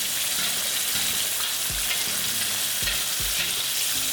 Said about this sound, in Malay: Panaskan minyak untuk goreng ikan ataupun teknik deep fry.